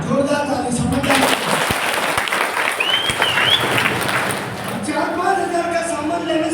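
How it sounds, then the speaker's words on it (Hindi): An audience at a business meeting breaks into brief applause after a speaker's words, with clapping and crowd noise in the middle and talk at the start and end. "जोरदार ताली।"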